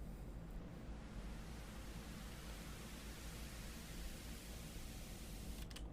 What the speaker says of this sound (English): we also have this white noise here again.